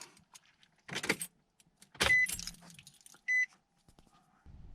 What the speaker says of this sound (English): Let's hope that doesn't affect the starting of the truck or the running.